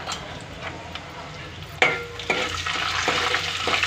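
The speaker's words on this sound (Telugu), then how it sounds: "4 ఎండుమిరపకాయలు కూడా గిల్లేస్తున్నాను. ఒకసారి వేయించుకుందాము." Dried red chillies hit hot oil with a sudden crackle, followed by a steady sizzling that grows busier with small pops. Before that, the oil sizzles quietly and faintly.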